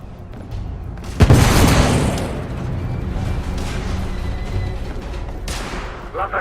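A deep boom bursts out in the video game The Order: 1886, its rumble lingering under continued low roar and debris noise, with a second softer hit near the end.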